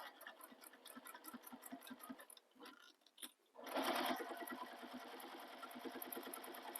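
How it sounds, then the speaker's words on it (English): Home sewing machine stitching a crossbody bag, running in a steady rapid whir with pauses and a short stop, then resuming louder and continuously, close and alone. "I'm just going to start stitching."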